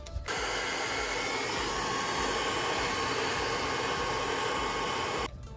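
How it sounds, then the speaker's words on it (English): A hair dryer blows steadily at close range, warming a plug hole in a BMW M5 bumper, a loud constant whooshing hum that runs unbroken for several seconds before switching off. "I'm gonna hold the hair dryer on here just to warm up the hole a little bit"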